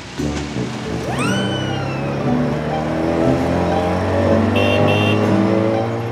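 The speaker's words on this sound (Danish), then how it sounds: "En tuk-tuk er en lille trehjulet bil uden vinduer." A small three-wheeled tuk-tuk without windows, heard in Thailand, drones nearby with a steady buzzing motor that rises in pitch as it revs and holds a sustained tone; no speech.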